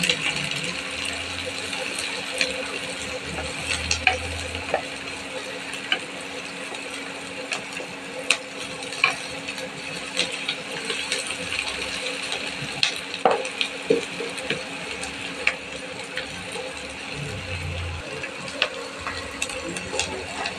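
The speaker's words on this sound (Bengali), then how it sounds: "পেঁয়াজ রসুন প্রায় ভাজা হয়ে গেছে" Onion, garlic and green chillies frying in a pan for an egg tadka, giving a steady close sizzle with scattered scraping clicks and clinks from stirring over 20 seconds, no talk.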